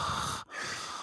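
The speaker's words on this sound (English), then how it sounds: "the audio's so good I can hear you breathing" Close breathing into a microphone, a continuous airy exhale that breaks off briefly mid-way before resuming, loud and near with no talk.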